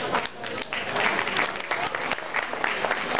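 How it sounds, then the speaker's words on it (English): Guests at a chamber of commerce friendship evening applaud the chamber's president Peter Ye, a lively burst of many hands clapping continuously, with scattered voices and cheers mixed into the crowd noise. "I think we should give Peter Ye, the president of this chamber,"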